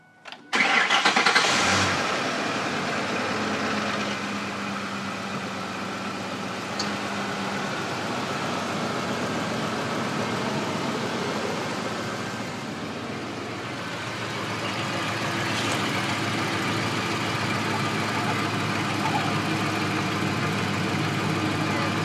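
Car engine after an oil change cranks and catches with a sharp burst, then settles into a steady, even idle that runs on for about twenty seconds.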